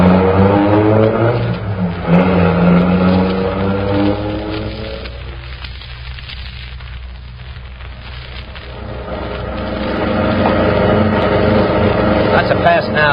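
In a radio-drama sound effect, a getaway car's engine roars loudly and climbs in pitch as it accelerates, then fades and swells again over a dense, hissing wash of noise.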